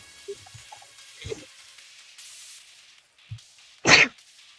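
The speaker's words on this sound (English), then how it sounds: "Uh-oh, I'm gonna sneeze again." One sharp, loud sneeze bursts out near the end, after a few soft, scattered mouth and breath noises and a brief quiet gap.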